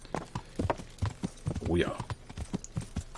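Horse hooves clip-clopping at a steady riding pace in the medieval game Kingdom Come: Deliverance, a regular series of close thuds with someone talking over them.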